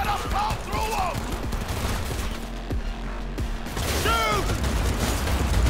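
Gunfire from a gun in Cyberpunk 2077, sharp repeated shots and mechanical clatter over a dense, loud game soundtrack, with brief bursts of voice.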